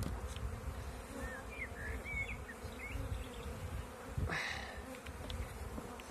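Honeybees buzzing around an opened beehive during a beekeeper's frame inspection, a continuous close hum with a few brief higher buzzes passing by.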